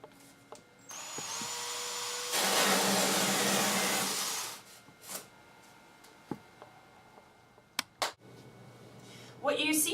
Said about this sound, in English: drill a 2 1/8 inch hole with our 2 1/8 inch hole saw